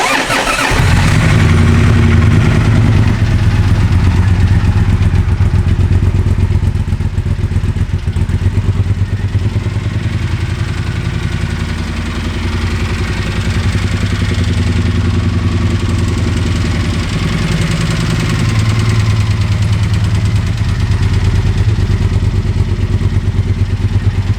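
A 2014 Triumph Thunderbird motorcycle engine cranks and fires up, then settles into a loud, steady, deep idle rumble that runs close by and uninterrupted for over twenty seconds.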